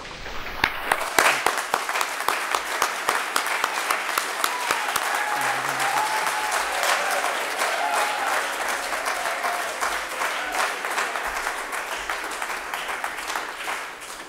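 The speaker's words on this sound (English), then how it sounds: "applause before I speak is unheard of" Audience at a summit applauds a keynote speaker as he takes the stage, sustained dense clapping from a full room that holds steady for over ten seconds, with faint crowd murmur underneath.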